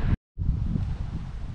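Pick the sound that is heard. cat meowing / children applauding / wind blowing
wind blowing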